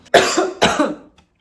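Two hard coughs in quick succession from a woman trying out Martine Skin hair booster perfume, each a close, loud burst with a short raspy tail, then silence.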